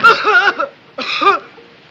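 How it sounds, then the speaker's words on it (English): Two harsh, chesty coughing fits close by, each a quick cluster of hacking bursts separated by a short pause. "Bad cough."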